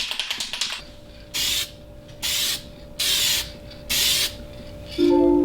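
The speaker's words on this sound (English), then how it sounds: "It's time for some spray paint so it doesn't rust." An aerosol spray paint can hisses in four separate bursts of about a second each, close and loud, coating car parts on a cambered Subaru STI, with a few quick clicks at the start and a faint hum between bursts.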